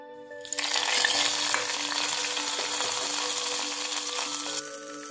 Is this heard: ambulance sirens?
no